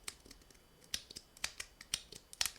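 A titanium mahjong tile fidget toy gives soft, quiet clicks and sliding taps. About six light, sharp snaps come at irregular intervals over faint scraping, close up and with no talking.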